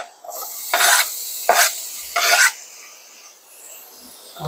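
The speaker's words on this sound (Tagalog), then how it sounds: "Tapos ilagay ko na yung sibuyas." Onions go into a hot pan and are stirred, giving three short bursts of scraping sizzle in quick succession, then a quieter simmering hiss, close and clear with no voice.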